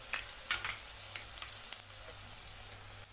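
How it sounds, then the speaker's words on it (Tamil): Green chillies and cardamom frying in hot oil in a pan for a Tamil-style chicken gravy, a steady close sizzle with light crackles and pops throughout, no talking. "பச்சை மிளகாய் எண்ணெயில் பொறிஞ்சதுமே கொஞ்சமாக சூண்டு"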